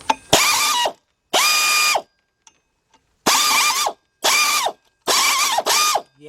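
Ratchet wrench loosening 10mm pulley bolts on a 2004 Chevy Monte Carlo 3.4, sounding as five loud, close bursts of rapid clicking, each about a second long, separated by short pauses.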